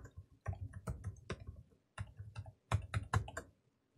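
A password is typed on a computer keyboard in quick, soft clusters of key clicks separated by short pauses, close and quiet with no talking.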